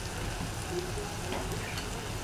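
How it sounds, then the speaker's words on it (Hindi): Minced keema meat fries slowly on a flat tawa, a soft continuous crackling sizzle at low volume with no talking. "ये देखिए आहिस्ता आहिस्ता भून रहा है"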